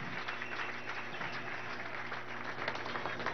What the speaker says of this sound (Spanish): Un aplauso a este joven vicealmirante de la patria y a todos los